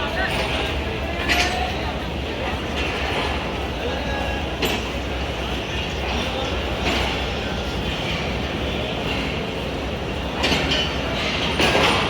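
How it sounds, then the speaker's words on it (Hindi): The Faizan Milad Express, a special passenger train, pulls out of Lahore bound for Karachi. A steady low rumble of rolling coaches runs throughout, with occasional faint clacks and murmuring voices in the background. "बेहतरीन लोकोमोटिव और मोस्ट रिस्पॉन्सिबल स्टाफ के साथ फैज़ान मिलाद एक्सप्रेस रवाना हो रही है।"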